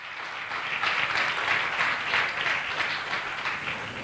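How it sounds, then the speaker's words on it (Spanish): A church congregation applauds to welcome first-time visitors, a steady wash of many hands clapping at some distance that holds evenly for several seconds. "Un aplauso, bienvenidos."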